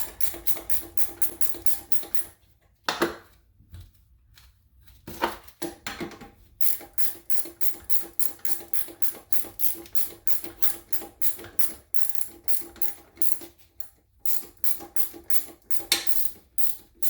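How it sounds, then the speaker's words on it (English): A 1/2 inch ratchet wrench loosens the nuts on a toilet's floor bolts up close, giving rapid, rhythmic clicking in bursts. Short pauses break the clicking between strokes. "So we'll take our 1/2 inch ratchet wrench. We'll loosen off both nuts"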